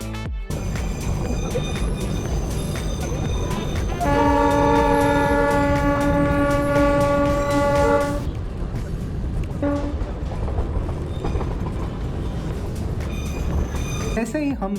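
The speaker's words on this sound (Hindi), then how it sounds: "टॉय ट्रेन पहाड़ों के एकदम साइड से होके गुजर रही है" Darjeeling toy train running along hill tracks, a loud steady rumble of wheels and carriage with a sustained horn blast in the middle, then a short second toot, with voices in the background.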